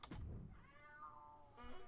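A house cat lets out one drawn-out, wavering meow at close range, fairly quiet, with a soft thump at the start and another at the end.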